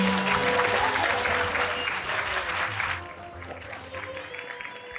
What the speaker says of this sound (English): Let's give another round of applause for the honorees.